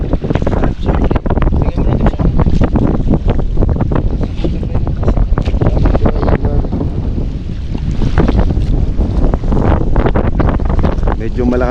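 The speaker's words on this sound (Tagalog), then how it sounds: "Medyo malakas talaga ang hangin ngayon dahil amihan." Strong northeast monsoon wind sweeps across a choppy sea, buffeting the microphone with a loud, continuous roar and the wash of waves for the whole stretch.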